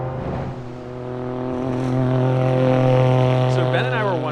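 A time attack kei truck's engine holds a strong, steady drone and swells louder as it accelerates along a race track, with a voice speaking briefly over it.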